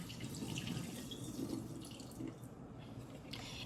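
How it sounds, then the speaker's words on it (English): Liquid pours out of canned green beans being drained, a soft continuous trickle and splash close by, steady and fairly quiet with light dripping textures. "I'm gonna drain 2 of them."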